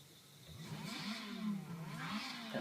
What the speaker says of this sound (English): That Ferrari startup